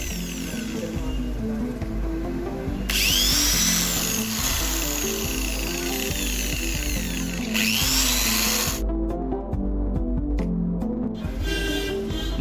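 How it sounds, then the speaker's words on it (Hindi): A power drill bores holes into a motorbike to mount a police light, its motor whining steadily and loudly and rising in pitch as it cuts, with brief pauses and no talking. "जिस जगह पे निशान लगाए थे ड्रिल मशीन से सुराख करते हैं।"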